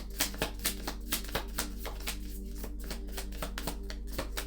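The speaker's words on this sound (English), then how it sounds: "we're going to shuffle again for the guidance" Tarot cards being shuffled close by, a quick run of soft repeated riffles and taps over a low steady hum.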